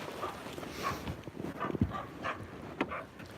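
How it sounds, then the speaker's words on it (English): Puppies yip, bark and whimper in short, scattered bursts, fairly soft and close, with no talking over them. "Hey, puppies."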